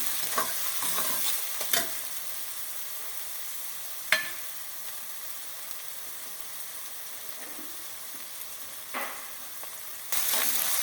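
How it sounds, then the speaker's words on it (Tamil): Steady, loud sizzling of ginger sautéing in a pan for vegetable rava upma, broken by a few sharp scrapes and clacks of stirring. "அடுத்து இஞ்சியும் போட்டு கொஞ்சம் நல்லா வதக்கிடலாம்."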